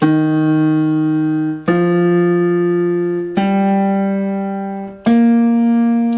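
Four low, sustained piano notes, each struck then left to ring and fade, stepping upward in a slow, simple bass pattern.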